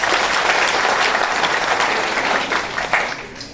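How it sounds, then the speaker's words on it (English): An audience at a sheriff's press briefing on an investigation breaks into dense, sustained applause, loud and continuous throughout with no clear voices over it. "You should give yourselves a round of applause"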